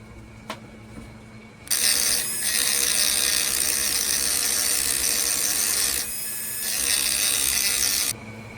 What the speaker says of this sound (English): I'm going to sand this down and punch it out this way